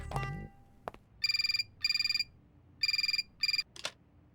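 A telephone rings at a women's police station in Lucknow, sounding in four bright electronic bursts of rapid trilling, each about a third of a second long, after a brief opening thump and clatter and with no talk over it.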